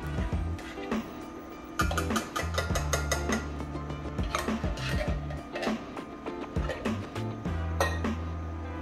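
A pot is handled and set on a stove in a home kitchen, giving off repeated metallic clinks, clanks and knocks of cookware in quick irregular bursts, close and fairly loud.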